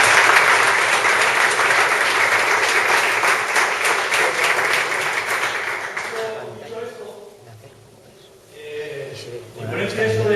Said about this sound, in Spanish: yo creo que se merece un poco de aplauso